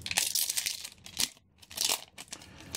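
Trading card booster packs for the One Piece card game being torn open by hand without scissors, giving bursts of close crinkling foil and paper tearing in uneven clusters with short pauses between rips.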